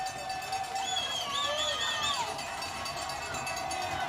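Crowd roaring and screaming at a college football game, a dense sustained wall of voices with whistle-like shrieks rising over it, loud and steady throughout.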